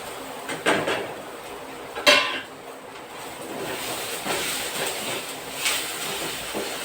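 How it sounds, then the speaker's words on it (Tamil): Sautéed onions tipped out of a pan, with sharp metallic clanks and scrapes of spoon against pan over a low hissing background, a few separate impacts, no talking. "இப்போது இந்த வதக்கி வச்சுருக்கிறத எடுத்து கொட்டிக்கலாம்"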